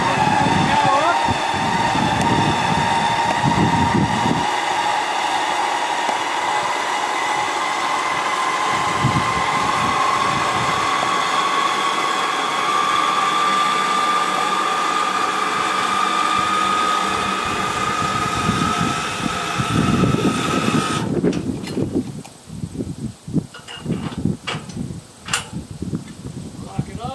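A winch raises a mobile communications tower with a loud, continuous whining drone whose pitch slowly climbs, then cuts off and gives way to clanks and rattles near the end.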